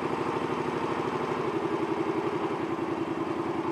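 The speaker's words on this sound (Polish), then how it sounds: "kręcąc tą śrubą w prawo, obroty zdecydowanie nam wzrosły" A Honda Shadow 125 motorcycle engine idling close by while its idle screw is adjusted, a loud steady rhythmic chug whose pulses gradually quicken as the revs climb.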